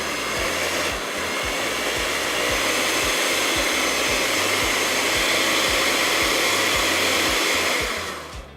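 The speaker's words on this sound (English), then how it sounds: "we're gonna put that right into our mixer over here. We just wanna get that nice and fluffy." An electric mixer whips cream cheese on medium speed, a loud, steady motor whir with a rhythmic low chugging that runs throughout and tapers off at the end, with no speech.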